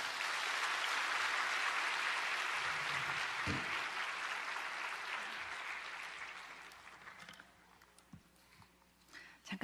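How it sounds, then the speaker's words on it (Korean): Loud applause fills a Korean church service as a pastor serving at a Canadian church is welcomed to the stage, then fades over the final seconds while a few scattered claps and light noises remain. "오늘 나오실 때 힘찬 박수 맞이하겠습니다."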